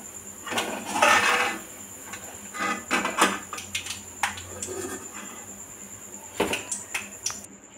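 Metal utensils clatter against a pan and bowl as fried furuli are lifted out, a run of close, sharp clinks and scrapes in uneven bursts with short pauses.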